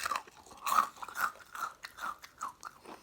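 Crisp, repeated crunching of extra crispy KFC fried chicken being chewed up close, several bites in a steady rhythm with no talking.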